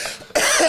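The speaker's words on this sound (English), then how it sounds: "now you got me coughing." A single loud, harsh human cough, close up, following a brief quieter breathy sound.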